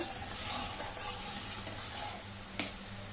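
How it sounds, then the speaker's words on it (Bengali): Sugar syrup with cardamom pods boiling in a pan, a soft continuous bubbling hiss with a faint clink near the end, close and fairly quiet. "চিনি রসটা একটু ভালো করে ফুটিয়ে নেব"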